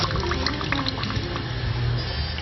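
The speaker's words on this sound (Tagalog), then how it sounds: "After kulo, tapat natin sa gripo." Tap water running over boiled ox tripe during rinsing for gotong Batangas, a steady close splashing and gurgling stream with small liquid spatters throughout.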